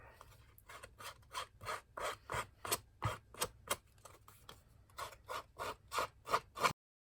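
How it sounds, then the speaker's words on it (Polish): Scissors cut paper gift tags in a quick rhythmic series of close, crisp snips, roughly two per second, then stopping abruptly; no talking. "więc wykonam to nożyczkami"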